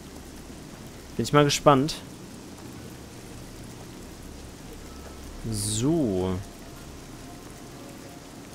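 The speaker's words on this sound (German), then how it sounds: "Und es regnet und regnet und regnet und regnet. Und es regnet immer noch. Und blitzen tut's auch." Steady rain hiss with rumbling thunder in the game Fallout: New Vegas, a soft constant wash under someone speaking German in two short bursts.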